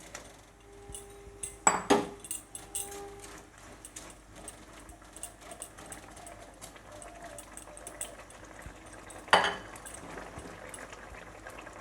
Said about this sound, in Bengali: ঝোলটা ফুটে গেছে, এখন আমি মাছগুলো ওর মধ্যে দিয়ে দেব